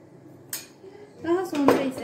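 A teaspoon of sugar and a tablespoon of salt are spooned into glass jars of preserved beans: a sharp, close clink of the spoon on glass, then a louder clatter of spoon and jar. A voice murmurs faintly underneath.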